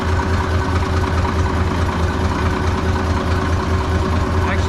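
A Caterpillar D6B bulldozer's D333 diesel engine holds a low idle with a loud, steady, even throb and no change in pace, close by and without talking.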